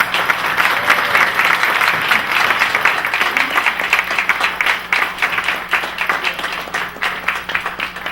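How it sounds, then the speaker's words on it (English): An audience applauds panelists at a talk event, a dense, continuous clapping that holds steady and slightly thins toward the end. "Please, a huge round of applause for our panelists."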